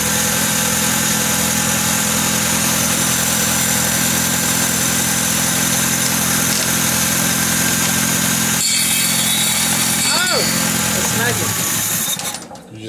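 A 1979 Fox body car's engine runs at a steady, loud idle for about twelve seconds, then sputters and cuts out abruptly near the end.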